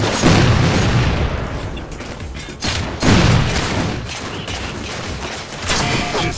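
Heavy gunfire in Halo 4 multiplayer, dense continuous bursts and booming blasts at close range, swelling in two waves, loud throughout with hardly any pause.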